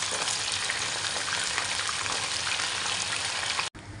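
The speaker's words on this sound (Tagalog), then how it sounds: "Iprito nga muna natin yung patatas mga boss chip. Alang carrots." Potatoes and carrots frying in hot oil, a dense, steady crackling sizzle close up that holds throughout and cuts off abruptly near the end.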